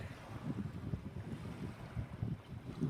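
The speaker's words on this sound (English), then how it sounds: "just the sound of the waves" Low rumbling waves wash in under steady wind buffeting the microphone at Yellowstone National Park, faint and continuous with no voices.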